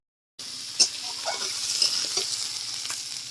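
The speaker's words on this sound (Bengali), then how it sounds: "আলু পেঁয়াজটাকে মা ভালো করে কষে নিচ্ছে" Potatoes and onions sizzle and fry in a pan while being stirred, with scraping spoon strokes over a steady crackle, close and fairly loud, no talking.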